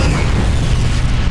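A dense, continuous roaring explosion from the real-time strategy game Universe at War: Earth Assault, loud and broadband, filling the moment with rumble.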